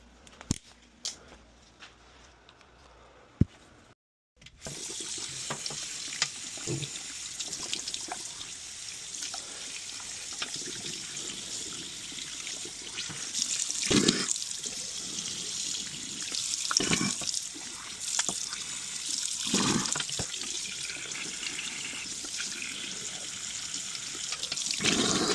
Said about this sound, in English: we're going to take this thing to the sink and clear out